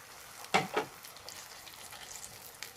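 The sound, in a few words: water added to onions sizzling and boiling in a pan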